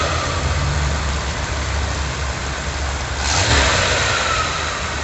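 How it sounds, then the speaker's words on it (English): The engine of a 1991 Dodge Ram B250 van runs close by with a low rough idle, then rises briefly in a short rev before settling back, alone with no voices. "So when I hit my gas, you see how I can rev the engine."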